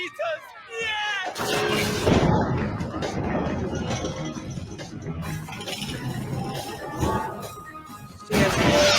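88 millimeter guns fire in the Hellsing anime: loud, sustained blasts and crashing impacts roll on for several seconds while a voice talks excitedly over them.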